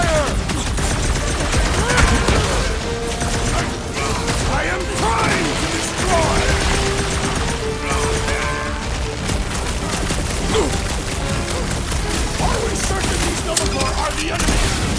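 Gunfire from a firefight against Nova Corps troops in Marvel's Guardians of the Galaxy, a dense rattle of shots running continuously under game music, effects and talk.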